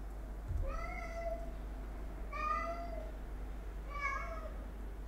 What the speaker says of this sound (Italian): Ciao gatto.